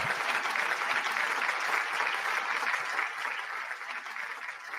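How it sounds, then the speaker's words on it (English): Applause for a guest, Tommy Rees from Browns Football Talk, a soft, even wash of clapping that stays steady and fairly distant, easing slightly toward the end. "Y'all give that man a round of applause,"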